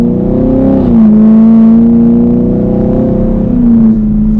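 A 2021 Chevrolet Camaro 2SS pulls hard through a turn, its V8 roaring loud and close with a rising and falling engine note that holds steady throughout.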